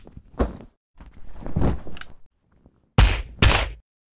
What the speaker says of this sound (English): This is a rough edit of a fight sequence using multiple tracks,